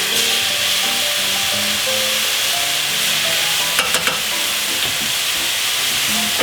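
Soy sauce being stirred into toasted tamari in a pan with the heat just switched off, a close, continuous scraping and rubbing of a spoon against the pan with a soft sizzle beneath and a few sharper knocks near the end.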